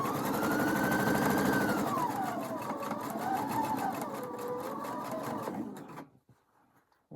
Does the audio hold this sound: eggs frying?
no